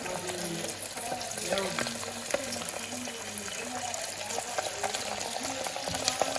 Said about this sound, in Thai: ทอดปลาเลยจ้า